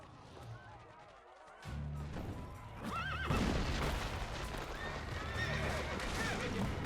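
A horse whinnies sharply amid a busy Assassin's Creed Brotherhood game soundscape, with rumbling effects and a low drone underneath.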